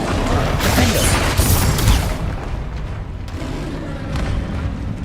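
The Bombarda explosion spell from Hogwarts Legacy goes off as a loud, booming blast with a rumbling burst early on, then fades into quieter rumbles and scattered impacts.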